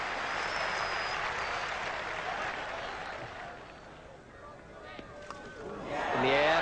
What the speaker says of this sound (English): in the background, the crowd rises